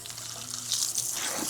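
Running water rinsing long hair during a shampoo, a close, hissing splash that swells and stays steady for a brief moment.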